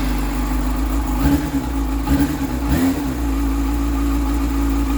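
An engine runs at a steady, rumbling idle close by, with a few brief uneven bumps near the start as it catches and settles. No one speaks over the low, continuous drone.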